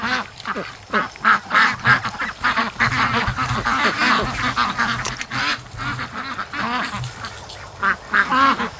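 Ducks on a swamp quack in a dense, overlapping chorus, many birds close by calling almost continuously with short bursts rising and falling throughout, with no talking.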